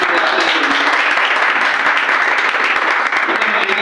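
Audience applause at a teachers' honour ceremony in Gonda, a dense steady wash of many hands clapping, loud and sustained throughout.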